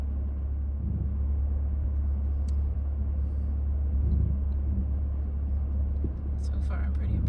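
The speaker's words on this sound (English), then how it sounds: "the X-Mode grinding there." Low, steady rumble and drivetrain grinding from a Subaru Crosstrek in X-Mode crawling over a rough, rutted driveway, with a few faint clicks near the end and no speech.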